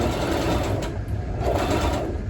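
Sewing machine running steadily while stitching a sofa cushion during a DIY reupholstery, a continuous close, loud mechanical whir with slight surges in speed.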